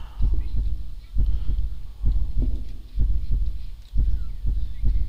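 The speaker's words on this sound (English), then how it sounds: "I can hear a heartbeat." A heartbeat pulses in the video game When Lights Die, deep low thumps in paired beats repeating at a slow, steady rhythm, about six double beats, close and prominent.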